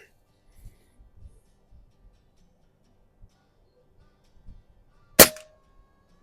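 A Diana Stormrider air rifle fired once outdoors at a range, a single sharp crack standing out from near silence, with faint low thumps of handling and wind before it.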